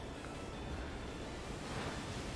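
A Muddy Water attack from Pokémon Sword and Shield, played in a VGC 2021 battle, makes a steady, loud, full wash of watery noise like crashing surf that fills the whole moment without a break.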